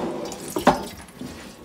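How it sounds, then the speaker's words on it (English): Tap water runs into a pot while ramen noodles are being made, with a brief louder gush near the middle among quieter splashing and dripping. "we're gonna fill a little bit of water"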